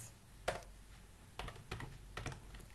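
Keystrokes on a computer keyboard while writing HTML code, a few isolated clicks followed by a quicker cluster of taps, close and moderately quiet with no talk.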